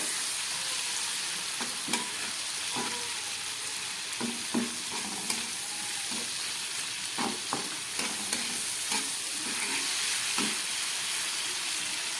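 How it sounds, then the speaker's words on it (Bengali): Prawns frying in a pan with salt and turmeric, a steady close sizzle broken by scattered scrapes and stirring knocks as the pieces are turned, no voices. "দিয়ে দিচ্ছি একটু হলুদ দিয়ে চিংড়ি মাছটাকে ভেজে নেবে"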